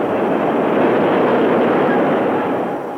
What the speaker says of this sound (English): Oh, do you feel the breeze from the subway?